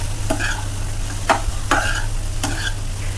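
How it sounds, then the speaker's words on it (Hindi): Broccoli with salt and spices stirred in a pan, with four distinct scraping strokes over a steady close sizzle, spaced roughly half a second to a second apart. "नमक आपका स्वाद अनुसार। अब इसको थोड़ा मिक्स कर लेते हैं।"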